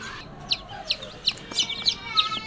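Newly hatched Brahma and Fayoumi chicks give a series of short, high peeping chirps at a steady pace, fairly close and clear over quiet background.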